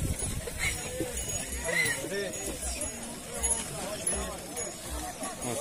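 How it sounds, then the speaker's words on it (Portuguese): Cattle herds and ox carts arrive at an ox-cart drivers' festival night in Água Branca, Paraíba, Brazil: livestock hooves and cart noise shuffle past amid a busy crowd, with people talking throughout and an occasional animal call. "Olha as boiadas que tá chegando, tem bastante carro"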